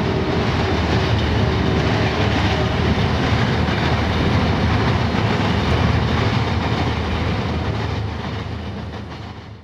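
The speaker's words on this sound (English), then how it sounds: "just in time to see an Amtrak train crossing the bridge." An Amtrak train rumbling across a bridge with steady rolling roar and faint rhythmic clatter of wheels on rails, fading slightly at the end.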